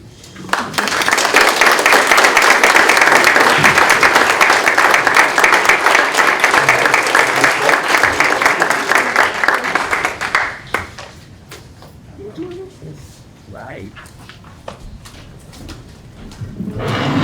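An audience at a poetry awards event applauds student poets in a dense, sustained burst lasting about ten seconds. It then drops to a quieter room with a few scattered claps and faint movement.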